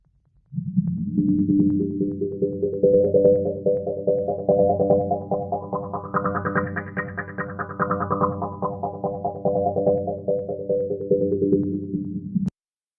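Sustained plucked zither-like strings from Soundiron's Ethnic Strings sample library drone under a sweeping filter that opens gradually, brightening the sound to a peak midway before closing back down, then stops abruptly.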